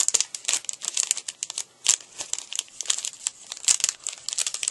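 Cellophane bag crinkles and rustles in dense, irregular bursts while being folded and handled for a Valentine matchbook craft, close and fairly loud with no talking.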